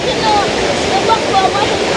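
Rainwater rushes past in a steady, loud broadband flow, with faint voices mixed in.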